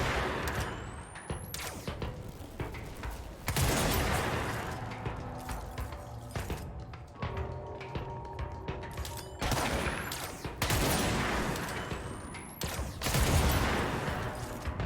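Heavy gunfire from a weapon in the video game Control, several loud bursts of shots cracking and booming close up over a steady game soundtrack, with brief lulls between the volleys.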